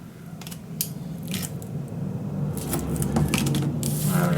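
Scissors snip through tape in a paper-craft album build, with a few close, crisp cuts and rustling over a steady background hiss.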